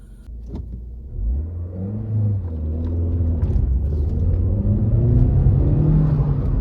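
A Volkswagen Polo 1.4 accelerates from a standstill toward 100 km/h, its engine climbing in pitch through each gear with brief dips at the shifts. The sound is heard from inside the car, loud and steady, and builds to a strained rumble.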